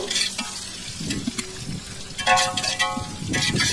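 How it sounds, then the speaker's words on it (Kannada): Sliced onions and green chillies being stirred in a pot for biryani, with soft scraping and clinking of the spoon over a light sizzle, the clatter coming in irregular bursts. "ನೋಡಿ, ಈ ರೀತಿ ಚೆನ್ನಾಗಿ ಮಿಕ್ಸ್ ಮಾಡ್ಕೋಬೇಕು."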